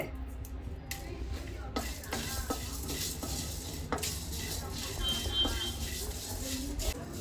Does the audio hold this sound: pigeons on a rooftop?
no